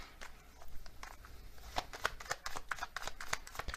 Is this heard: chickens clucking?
no